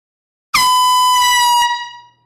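A single loud air horn blast sounds for about a second, bright and close, then trails off quickly into silence.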